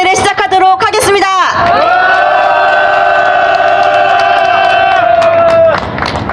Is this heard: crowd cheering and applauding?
yes